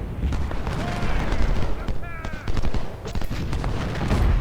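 Dense volleys of musket fire in Ultimate General: Civil War's Battle of Chancellorsville, with overlapping cracks and rolling reports forming a continuous loud battle din.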